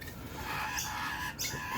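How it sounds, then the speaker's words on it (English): Rainbow lorikeets and magpies squawk in a backyard after a severe hailstorm, giving a continuous rough, scratchy chatter of bird calls at moderate distance, fairly faint and without talk. "So I've got some rainbow lorikeets here."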